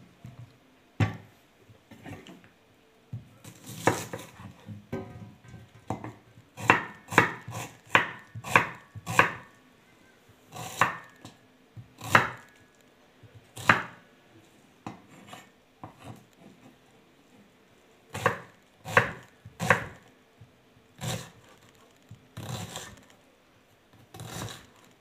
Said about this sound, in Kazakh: Бірінші кезекте мына пияздарды турап аламыз.